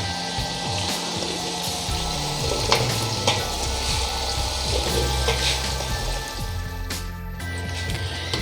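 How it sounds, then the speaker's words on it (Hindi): Diced potatoes and peas sizzle and crackle in a pot as they are fried for chicken pulao, with steady frying noise and occasional stirring scrapes close by, no talking. "ये मैंने इसमें आलू ऐड कर दिए हैं और मटर भी ऐड कर दिया। मैं थोड़ा सा इसको भून रही हूँ"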